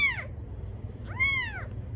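Two high, sweeping meows from a five-day-old Bengal kitten, a short one at the start and a longer rising-falling one a second later, over a low steady background hum.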